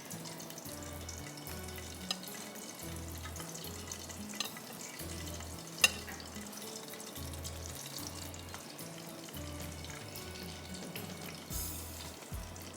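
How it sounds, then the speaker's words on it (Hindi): Battered hot shots made with chilled water fry in hot oil, giving a steady, close, crackling sizzle that runs unbroken for the whole stretch, with faint low background sounds beneath. "बस ये मैं फ्राई कर रही हूँ"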